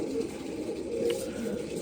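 Pigeons coo in a low, continuous murmur throughout, steady and fairly close, with no talking.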